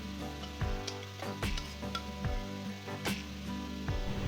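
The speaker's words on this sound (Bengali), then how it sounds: "2টো তেজপাতা আর গোটা গরম মশলা ফোড়ন দেব, দারচিনি, লবঙ্গ, এলাচ। 30 সেকেন্ড ভেজে নেব।" Bay leaves with cinnamon, cloves and cardamom frying in hot oil for a korma, a quiet sizzle broken by a series of sharp clicks and pops from a spoon or spatter.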